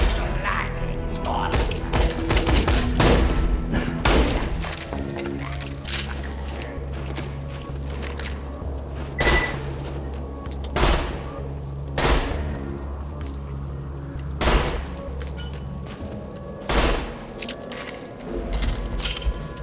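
Pistol fire in Borderlands 2 from a gun with a twin-shot accessory, sharp loud reports spaced every couple of seconds over a continuous game soundscape.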